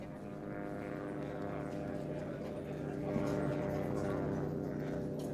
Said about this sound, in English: And you hear that constant humming, that constant buzz? Fucking drones, bro. Drones.